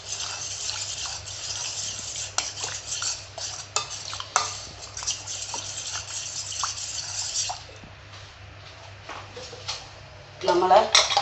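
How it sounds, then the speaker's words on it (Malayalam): Kerala-style beef fry being stirred in a pan after its cooking liquid is poured in, with steady scraping and clinking of a spoon against the pan and a soft wet simmer underneath, a voice speaking over it. "ഇത് നല്ലതായിട്ട് നമുക്ക് കട്ടയില്ലാതെ ഇളക്കി കൊടുക്കാം"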